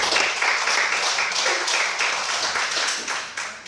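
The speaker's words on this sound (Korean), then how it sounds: "우리 뒤에 수고하신 분에서 우리 박수 한번 하십시다" A lecture-hall audience at a Renaissance and Reformation talk breaks into steady, dense clapping that carries on throughout without letting up.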